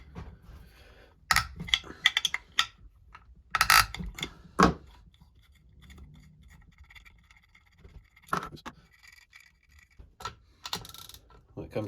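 A ratchet wrench works loose 14 mm head bolts on a Yamaha YZ/YFZ 450 ATV engine during teardown, in short bursts of rapid clicking separated by quiet pauses.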